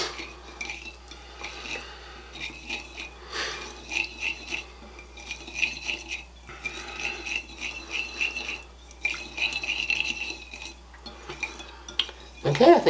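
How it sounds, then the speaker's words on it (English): Whisk strokes of cayenne pepper and spices in a bowl, quick clinks and scrapes against the bowl in an uneven rhythm at close range, moderately quiet. "And I'm just going to whisk this together."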